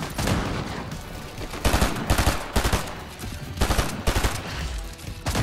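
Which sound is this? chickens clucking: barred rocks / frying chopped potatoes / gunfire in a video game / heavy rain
gunfire in a video game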